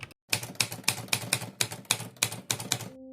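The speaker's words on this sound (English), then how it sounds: "there used to be typewriters in this world." A mechanical typewriter clacks out a steady run of about a dozen sharp, evenly spaced keystrokes, close and crisp, ending with a short ringing bell tone.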